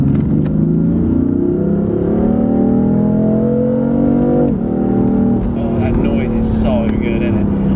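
A modified F80 BMW M3 engine revs loud and close, its tone climbing and dipping with a brief drop partway, and a person speaks over the roar.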